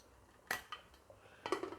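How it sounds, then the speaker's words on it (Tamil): A metal pressure cooker lid clanks onto the pot and its weight is set on top during cooking, giving two sharp metallic clatters about a second apart with a few lighter taps between them, close up and with no talk. "வெயிட் போடுங்க. குக்கர் மூடி போடுங்க."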